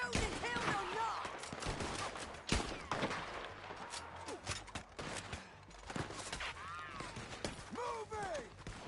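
Dense, continuous gunfire from Red Dead Redemption 2 fills the scene with rapid overlapping shots and occasional heavier blasts, while shouting voices come through under the shooting.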